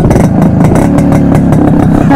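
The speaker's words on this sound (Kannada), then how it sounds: "ಇದ್ರದ್ದು ಸೈಲೆನ್ಸರ್ ನೋಟ್ ಅನ್ಸಲಿ ಕೇಳಿಸ್ಕೊಬಿಡಿ" A Yezdi Roadking motorcycle's silencer gives a loud, close exhaust note with a rapid, thumping beat, like an engine idling or revving lightly.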